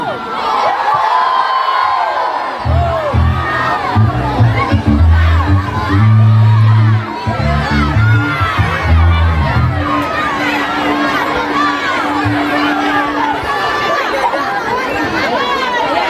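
A large concert crowd of about 30,000 roars and shouts continuously, loud and close, with overlapping voices, cheering and a low amplified thump partway through.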